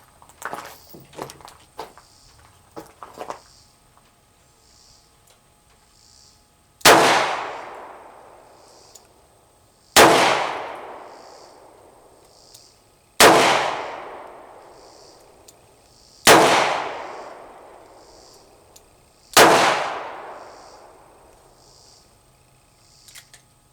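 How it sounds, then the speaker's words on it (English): Five loud handgun shots at an outdoor shooting range, heavier than a .22, fired at a steel plate target about 5 yards away, evenly spaced roughly three seconds apart, each with a ringing decay, after a few faint clicks and handling noises. "this is a very different gun to shoot than the 22"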